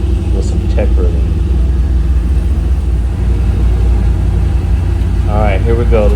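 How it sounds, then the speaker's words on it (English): A big block V8 car engine with Sniper fuel injection runs steadily, a loud continuous low rumble throughout, with voices speaking briefly near the start and end. "See how snappy and smooth that big block is."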